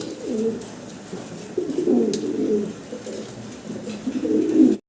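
Lakha pigeons with silver plumage coo steadily and close by in repeated low, throaty rolling phrases that swell and fade across the whole stretch before it cuts off abruptly at the end.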